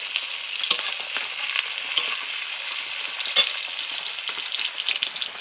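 Chopped tomato sizzles in a hot frying pan, a steady close crackle and hiss broken by a few sharp pops and spatters, with no voices.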